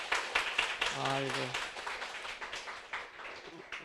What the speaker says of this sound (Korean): 박수 좀 쳐주시기 바랍니다.